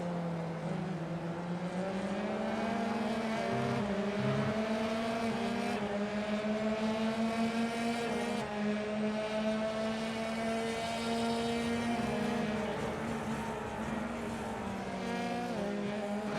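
Formula 3 race cars from a racing video game at Circuit Zolder, engines droning in a steady high whine with shifting pitch as the pack runs close together, loud and continuous without talk.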